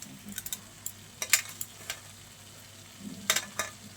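Papaya curry with garam masala being stirred as it fries in a pan: scattered soft scrapes and taps of the utensil over a faint sizzle, close by and without speech.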